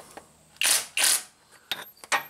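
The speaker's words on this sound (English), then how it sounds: "what I'm doing is just lightly tightening the bolt" A ratchet lightly snugging the harmonic balancer bolt on a HEMI engine during a timing repair: two short raspy bursts of clicking, followed by a few softer metallic clicks and taps, close up with no talking.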